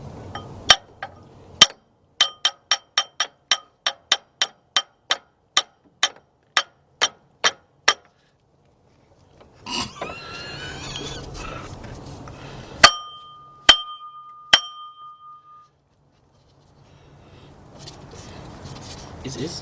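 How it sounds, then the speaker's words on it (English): A hammer taps on a Ford water pump in a sequence of sharp metallic strikes, first a run of rapid, evenly spaced hits, then a pause followed by a few louder, ringing blows with a brief rustle of handling between them. "I want to take me a hammer and just hit it just a little nicer"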